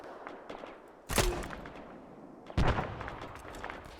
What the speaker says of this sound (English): Delta, deliberate fire into the compound.